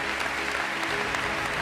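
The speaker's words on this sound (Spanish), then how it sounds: "Un aplauso fuerte" A steady burst of clapping from a seated crowd at a national canoeing awards gala, dense and continuous for a couple of seconds.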